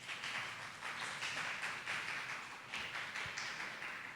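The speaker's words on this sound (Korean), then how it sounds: "큰 박수 부탁드립니다" Audience at a lecture on climate change and carbon neutrality gives a steady round of applause, sustained clapping that sounds fairly distant and soft throughout.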